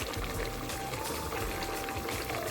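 Kavurma meat cooks in a pan with butter just added, bubbling and sputtering in a continuous close wet simmer with no break.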